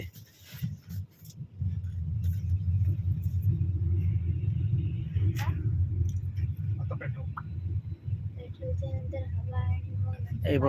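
A car's engine rumbles steadily from inside as it drives along a road in Mira Road, with a low continuous drone, occasional clicks and brief voices over it.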